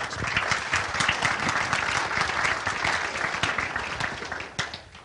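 A conference audience at a 2011 Montana legislative forum bursts into sustained, dense applause to welcome a speaker, steady and loud for about five seconds before thinning slightly at the end.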